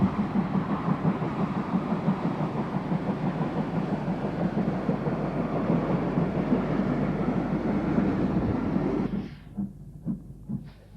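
Steam train running on rails, a continuous rhythmic rumble with clattering wheel beats heard close and loud for about nine seconds before cutting to a quieter stretch with scattered knocks.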